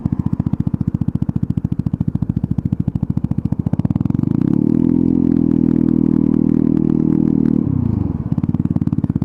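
Royal Alloy GP125 scooter engine at tick over with a rapid, steady thudding exhaust pulse, loud and close, briefly rising to a smoother blip of revs in the middle before settling back to the idle thud.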